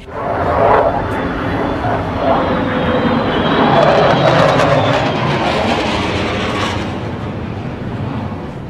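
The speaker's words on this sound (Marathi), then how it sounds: "B-2 बॉम्बर विमानं आणि फायटर जेट्स दोघांवरून उडत गेली।" B-2 bomber planes and fighter jets fly overhead at a summit welcome in Alaska, a steady loud roar of jet engines that swells and slowly fades over several seconds with no talk.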